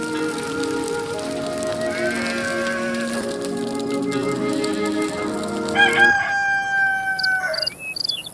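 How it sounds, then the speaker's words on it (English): A rooster crows loudly in Black and White 2, one long rising and falling call over farmyard ambience with a cow lowing and other tonal game sounds, and no one speaks. "This rooster wakes me up every single day."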